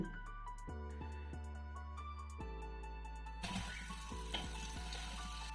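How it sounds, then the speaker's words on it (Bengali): Soft, continuous hiss and bubbling of french fries frying in oil, faint and steady, with a brief stir partway through. "তো এইভাবে বাকি যে যতগুলো আছে সে ঠিক সেইভাবে এগুলো আমি ভেজে নিচ্ছি।"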